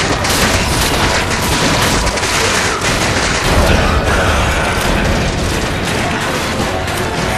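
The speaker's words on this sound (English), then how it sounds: "Grenades. Grenades." Grenade blasts from Resident Evil 5, a dense, loud barrage of booms and gunfire-like bursts filling the whole stretch with little break, no voices clearly heard.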